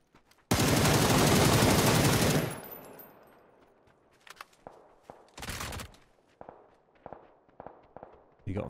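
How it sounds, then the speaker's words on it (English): Gunfire in the video game PUBG: a long, loud, continuous burst of shots lasting about two seconds, followed by a quieter run of scattered single cracks and footstep-like thumps with brief talk mixed in. "Oh, I'm getting sniped up from behind."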